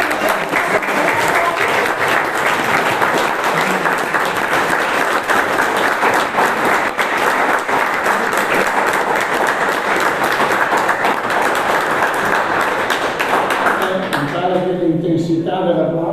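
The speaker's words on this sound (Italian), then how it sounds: "L'intensità dell'applauso è la migliore valutazione" Audience applauding after a historical lecture on a monastery and church, dense sustained clapping filling the room for most of the stretch, then thinning out at the end as a voice begins speaking.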